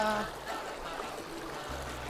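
River water running over stones stacked in the riverbed for catching fish, a faint, steady rushing wash with a few brief tonal sounds at the start.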